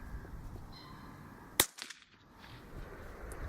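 One sharp, fairly quiet airgun or rifle shot cracks through a HUSHPOWER Bobcat moderator with 1.7 baffles, a single isolated report that fades quickly into near silence.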